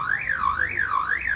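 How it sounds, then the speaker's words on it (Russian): A car alarm at a motorcycle speedway race wails with a loud rising and falling siren tone, sweeping up and down about three times in quick, regular cycles. "Включили уже сигнализацию."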